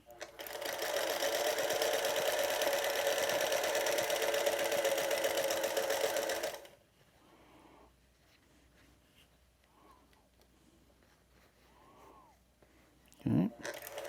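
A sewing machine stitches quilt pieces for a disappearing nine-patch quilt, running loud and steady for about six seconds, then stopping; faint handling noises and a brief thump follow.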